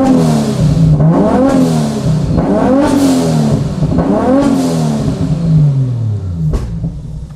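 A Nissan Silvia fitted with a GT-R RB26 engine revs hard several times up close, each blip rising and falling over a loud idle rumble, with no one talking.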